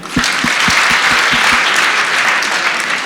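A crowd at a vice presidential debate applauds loudly and steadily, with several close, distinct hand claps standing out at the start.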